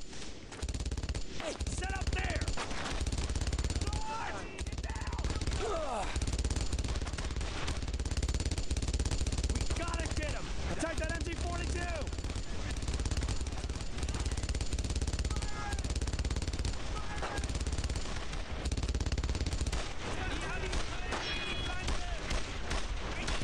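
Machine gun fire in Brothers in Arms rattles in repeated bursts amid a loud World War II battle soundscape, with shouted voices and other gunshots mixed in.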